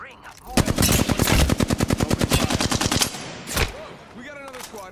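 Rapid automatic gunfire in Apex Legends ranked play, a loud, close stream of evenly spaced shots lasting a few seconds, then a single heavier blast, with players talking over and after it.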